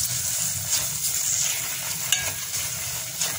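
Semolina halwa roasting in a pan with sugar, a steady close sizzle with scraping stir strokes and a few sharper clinks of the spoon, no talking.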